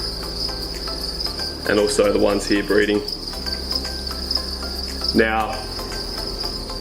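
Steady high-pitched cricket chirping runs throughout, a continuous shrill trill, with someone talking briefly over it in two short bursts.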